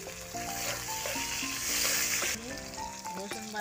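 Chopped onion, chopped chili and whole green chilies fry in a pan for a Bengali village-style dish, a steady hiss and sizzle that stays close. Bright tonal chimes and tones sit over the frying.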